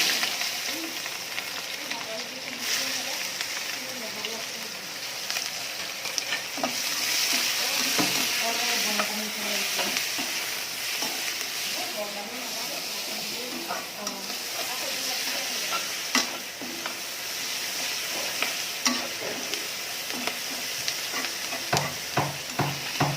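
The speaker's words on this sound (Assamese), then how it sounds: "ভাজিয়ে আছো আৰু পিঁয়াজ ৰঙা হৈ নোযোৱালৈকে ভাজিয়ে থাকিম" Half a kilo of onions frying in oil for a duck curry, a steady close sizzle with frequent stirring scrapes and crackles that carries on throughout.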